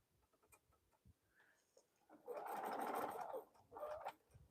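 A sewing machine stitches a fabric bowl cozy, starting with a few soft clicks and handling sounds before a close, buzzing run of stitching, a brief pause, then a shorter burst.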